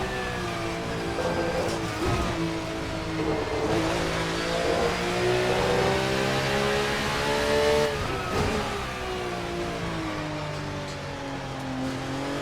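A Porsche 992 GT3 R race car engine roars in a racing simulator, loud and sustained with climbing revs and a quick gear change near the end, no speech over it.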